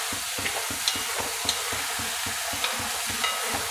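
Onions and tomatoes cook down in a pan, giving a continuous soft sizzle under a quick, steady rhythm of stirring scrapes with a few faint metallic ticks, close and quiet with no voices.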